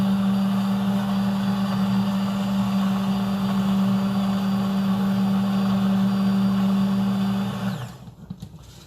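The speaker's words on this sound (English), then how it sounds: "Yeah, I am blending on high. Very slowly going to my right, which is lifting up the bottom of the immersion blender." An immersion blender running on high hums loudly and steadily at close range, then cuts out near the end, leaving a brief quieter tail.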